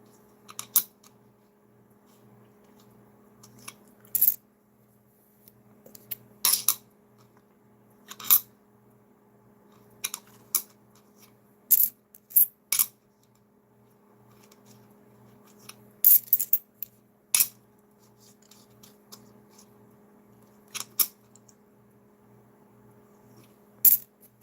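Nickels being unrolled and handled for a coin hunt, with scattered sharp metallic clinks and clatters in irregular bursts against a quiet room hum, no talking.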